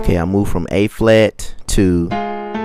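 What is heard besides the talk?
No everyday noises stand out.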